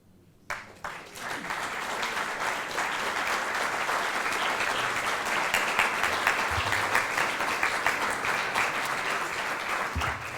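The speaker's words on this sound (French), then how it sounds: "Vous avez raison de les applaudir parce qu'ils ont vraiment bien travaillé." Audience applause after a talk on the return of war, starting abruptly at about half a second and holding as steady, dense clapping for the remaining ten seconds without voices.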